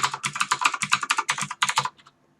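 Fast, crisp keystrokes on a computer keyboard enter an IP address, about twenty close clicks in a quick burst that ends in silence.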